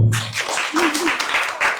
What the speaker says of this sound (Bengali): তবু ওর জন্য করতালি দেবো